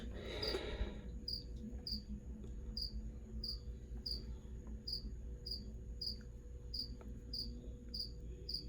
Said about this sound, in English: And these crickets are really annoying, but Mushu's gotta eat.